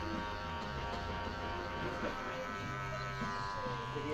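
Electric hair clippers buzz steadily through a barbershop haircut, trimming the edges with a constant close motor hum and faint cutting texture, without pause for about four seconds.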